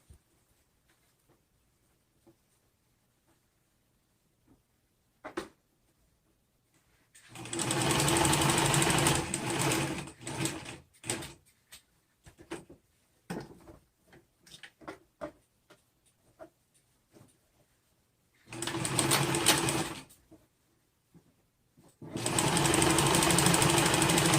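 A sewing machine stitches a DIY face mask in several loud, rapid bursts, separated by quiet pauses and light handling clicks, heard up close.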